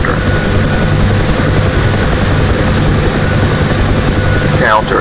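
A UH-1 Huey helicopter in the DCS World flight simulator lifts into a hover, its loud steady rotor thump and turbine drone filling the whole stretch with a faint rising whine near the end.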